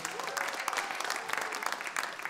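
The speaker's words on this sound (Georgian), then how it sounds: "კიდევ ერთი აპლოდისმენტები" Audience at a Georgian league quarter-final applauding young teams, dense sustained clapping from a crowd filling the space evenly, fairly close, with no clear speech.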